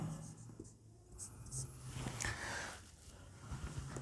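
Chalk or marker scratching across a board during a physics lesson on comparing cell EMFs with a potentiometer, a run of soft, scratchy strokes with no talk over them.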